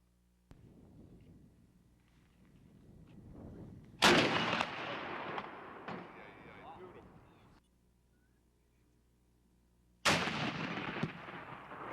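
Live-fire cannons at a maritime museum exhibit blast at a ship section from 200 yards, two loud sharp reports several seconds apart, each followed by a rolling echo, with a voice speaking quietly before the first shot.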